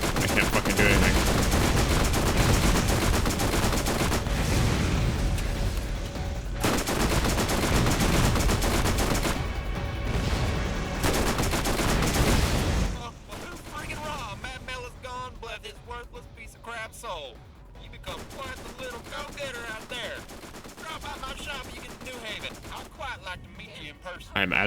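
Submachine gun fire crackles in rapid bursts during a video game fight, dense and loud at first, then thinning into sparser shots and other game sounds.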